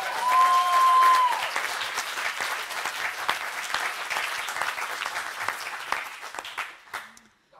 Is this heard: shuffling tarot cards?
no